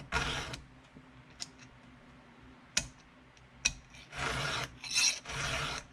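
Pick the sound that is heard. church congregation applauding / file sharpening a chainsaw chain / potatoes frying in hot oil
file sharpening a chainsaw chain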